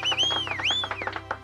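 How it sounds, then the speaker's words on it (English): A cartoon character gives a loud, shrill whistle in a children's show, the tone sliding up and down in pitch over rhythmic clapping and cheering from a small crowd. "Trampy gives his loudest whistle"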